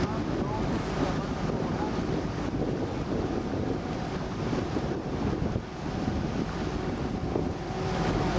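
A small motorboat, a water taxi-style runabout on a Venice canal, passes with a steady engine drone mixed with wind buffeting and lapping water, continuous and fairly loud throughout.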